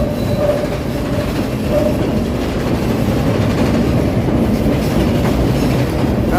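Elevated Chicago Loop train rumbling past on its tracks, with a steady clattering rattle from a busted wheel, loud and close throughout with city ambience beneath.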